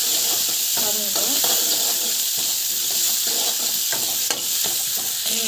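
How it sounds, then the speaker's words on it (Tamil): Asafoetida sautéing in a frying pan with salt, giving a continuous close hiss and sizzle with faint stirring clinks, steady throughout, with no talk over it. "பெருங்காயம் போட்டுட்டு நல்லா வந்து வதங்கட்டும்."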